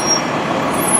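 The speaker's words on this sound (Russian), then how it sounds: "Вот подъезжает наш автобус 22-й." City bus number 22 pulls up at a stop. A loud, steady rumble and hiss of engine and air brakes fills the moment, close by and continuous.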